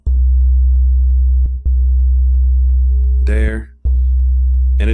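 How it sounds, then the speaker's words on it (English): A looped, simple sine-wave drum sample on an Akai MPC beat machine, a loud sustained low tone that drops out briefly twice, with a short stretch of talking over it. "it's just a very simple sine wave kind of thing. So I just looped it."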